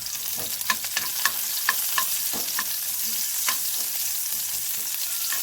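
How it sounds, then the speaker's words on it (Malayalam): Browned shallots fried in oil and poured into a prawn curry, a loud continuous sizzle with sharp crackling pops close up, no voices. "ഒരു ബ്രൗൺ കളർ ആവുമ്പോൾ ഒന്ന് ഒരുങ്ങി വരുന്ന ടൈമിൽ നമ്മൾ അതെടുത്ത് ഈ കറിയിലേക്ക് ഒഴിച്ചു കൊടുക്കുക"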